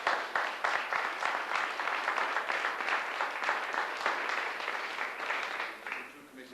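A crowd at a town twinning gathering in Ireland claps steadily for several seconds, a dense, continuous patter of many hands that stays fairly loud before tapering off at the end.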